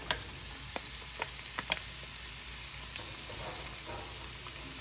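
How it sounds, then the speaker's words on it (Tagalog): Garlic and onion sauté in a pan with a continuous, fairly quiet frying hiss, broken by a few sharp pops and spatula clicks. "Hindi ko na po patatagalin ang paggisa ng bawang. Lagay po agad natin ang sibuyas."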